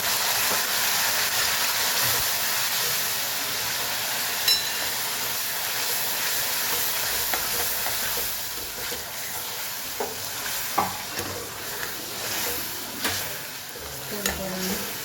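Chopped tomato sizzles and fries in a hot pan, a steady hissing crackle with occasional sharper pops and stirring scrapes, close and fairly loud.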